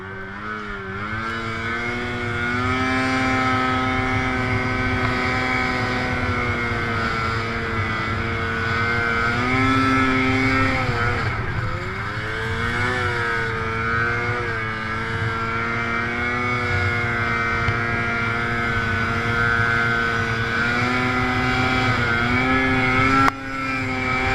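A snowmobile rides through snow with its engine droning loud and close for over twenty seconds, the tone rising and falling as the throttle changes and dipping briefly around the middle.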